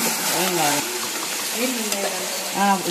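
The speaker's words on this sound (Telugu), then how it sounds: "అల్లం వెల్లుల్లి పేస్ట్ పచ్చి వాసన పోయేంత వరకు వేయించుకోండి" Chicken with ginger garlic paste fries in a pan with a steady, fairly loud sizzle, while a voice talks intermittently over the cooking noise.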